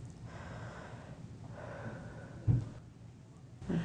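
During an outpatient exam a person takes a deep breath with slight wheezing, soft drawn-out inhales and exhales followed by a brief sharper snort-like breath, quiet and close.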